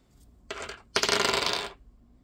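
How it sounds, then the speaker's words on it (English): Dice tumble and rattle across a hard surface in two quick bursts, a short clatter followed by a longer, louder roll, close by and with no talk over it. "I'm gonna roll. I don't know how many dice I want to roll."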